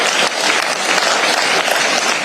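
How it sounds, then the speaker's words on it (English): A gathering of political leaders at a meeting breaks into a short, dense burst of clapping that continues evenly without pause. "Let's give ourselves a clap."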